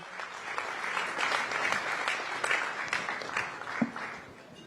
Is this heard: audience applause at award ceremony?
yes